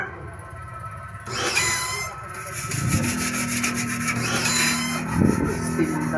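Steel wool scrubs stubborn, tightly stuck grime off the drum of a Samsung automatic washing machine during deep cleaning, a steady close rasping rub with some clatter and a low hum underneath.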